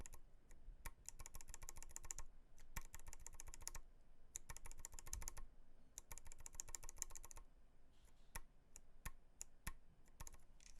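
Custom mechanical keyboard switches clatter under quick typing bursts, with dense runs of sharp clicks split by short pauses and scattered single keystrokes, quiet and close with no voices.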